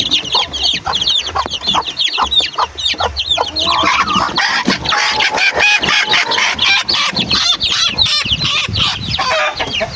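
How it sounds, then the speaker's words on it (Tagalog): Backyard farm hens clucking and squawking nonstop up close, busy overlapping calls with scratchy fluttering in between. "Kukunin natin ang inahin."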